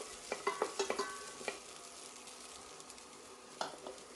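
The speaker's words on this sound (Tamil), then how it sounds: "வெங்காயத்தை லேசாக வதக்கிட்டு நம்ம காய்கறிகளை சேர்த்துக்கலாம்." Onion and cut vegetables, including carrot, are sautéed in a pan for a South Indian vegetarian meal. Faint stirring scrapes and a soft, steady sizzle are heard at close range, with a cluster of light clicks early on and no voices.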